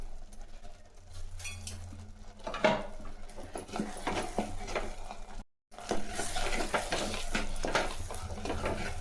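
Tomato masala sautéed in oil in a pan, with soft sizzling and repeated scraping stirs of a utensil against the pot, close and fairly quiet, with a brief dropout midway.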